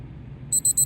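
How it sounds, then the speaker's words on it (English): Quiet low hum, then a rapid series of four high-pitched electronic beeps in an even rhythm from a modded Casio digital watch timer, close and clear. "it's beeping, but it automatically restarted"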